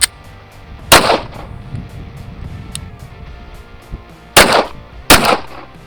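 Three loud, sharp pistol shots of Blazer 124 grain ammunition from a Raider 365 with a 6-inch barrel, spaced unevenly outdoors, with faint clicks and low background noise between them.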